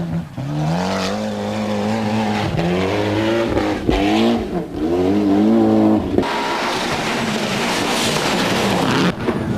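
High-powered four-wheel-drive rally cars race through a stage at the 1994 Rally of New Zealand, their engines loud and close, revving hard and shifting through rising gear pulls as they pass.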